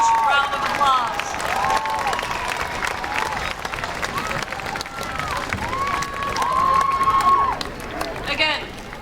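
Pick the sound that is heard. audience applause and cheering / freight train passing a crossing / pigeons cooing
audience applause and cheering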